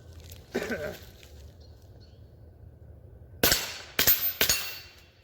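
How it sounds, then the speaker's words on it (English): A suppressed Kel-Tec CP33 pistol fires CCI standard 40 grain rounds: a muted crack comes early, then after a quiet gap three sharp, close reports land in quick succession. "of course you knew that we were going to have to try and shoot it suppressed"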